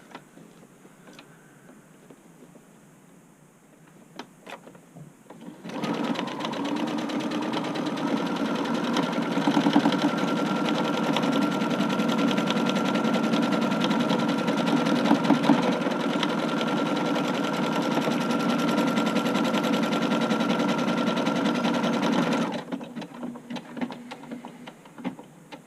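A sewing machine stitches buttonholes into a button-up shirt in one continuous run, a fast steady mechanical chatter that starts abruptly, holds loud and even for over fifteen seconds, then stops, with quiet handling noises before and after.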